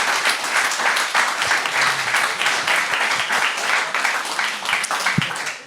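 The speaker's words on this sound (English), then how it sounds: "And another round of applause, please, for our wonderful guest." A conference audience gives a guest keynote speaker a loud, sustained round of clapping, many hands in a thick continuous patter close to the listener, easing off slightly at the very end.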